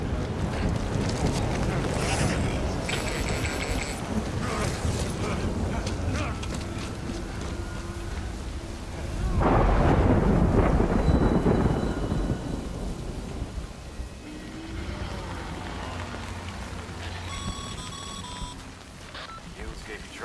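Rain and thunder in the video game Death Stranding: a steady wash of rainfall and wind, with a heavy rumbling thunder swell midway, plus scattered tonal game effects.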